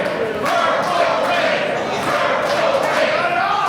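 Wrestling crowd at a live event cheering and roaring in a dense, steady wash of noise for a few seconds, loud and continuous.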